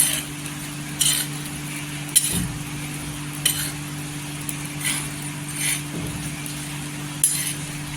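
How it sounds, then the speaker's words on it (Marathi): Whole green chillies roast in salt in a pan over a low flame, a soft sizzle under a faint steady hum, broken by quick metallic clinks and scrapes of stirring roughly every second. "पूर्णपणे मिरच्या अशा भाजल्या पाहिजेत पूर्णपणे असं डाग आले पाहिजेत एवढ्या भाजायच्या"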